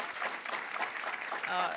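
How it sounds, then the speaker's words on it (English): Audience applause for construction trades workers at a New York State airport infrastructure event, a steady patter of clapping over about two seconds, mixed with murmuring voices. "Let's give them a round of applause for their work."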